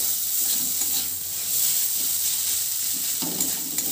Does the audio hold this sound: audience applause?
no